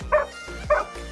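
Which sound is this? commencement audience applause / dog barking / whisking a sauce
dog barking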